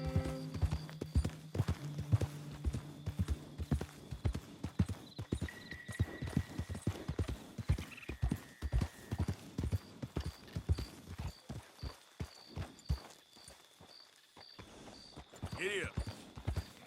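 In Red Dead Redemption 2, a horse's hooves clip-clop in a quick steady rhythm of close, crisp beats that continue throughout, alongside game music tones and a voice speaking near the start.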